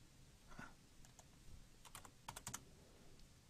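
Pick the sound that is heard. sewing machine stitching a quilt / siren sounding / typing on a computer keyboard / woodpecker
typing on a computer keyboard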